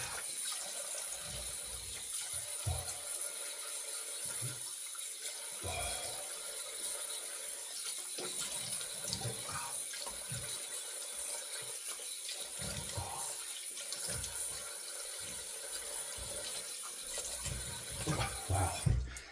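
Tap water runs steadily into a sink while someone rinses off after a shave, a constant hiss broken by irregular splashing and sloshing from hands moving under the stream, close and moderately loud.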